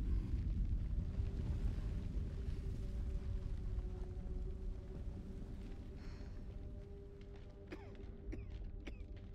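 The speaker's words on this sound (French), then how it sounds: "L'explosion les a bloqués." A deep rumbling blast echoes and decays in a dark setting in the horror video game The Dark Pictures Anthology: House of Ashes, followed by faint creaks, debris and a steady low drone.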